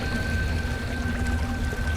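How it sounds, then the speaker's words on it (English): An underground waterfall in a Star Wars roleplay video game rushes with a steady, full roar, joined by a low sustained tone and a thin high hum, with no voices. "What a beautiful waterfall. I didn't even know that there were underground waterfalls."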